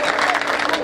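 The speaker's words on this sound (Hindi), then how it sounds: "आरती समाप्त हुई, तालियां बजाइए।" Brief burst of audience clapping at a comedy poetry gathering after an aarti, a dense, steady patter of many hands throughout with no clear talk on top.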